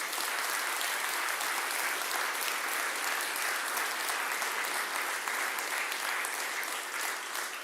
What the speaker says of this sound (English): So also an applause for our partners.